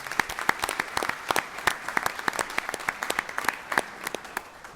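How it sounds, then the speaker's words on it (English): A board of education meeting audience gives a round of applause for outstanding students, a lively stretch of distinct claps from a modest crowd, fairly close and steady throughout. "So if everybody could give one more round of applause for these outstanding students."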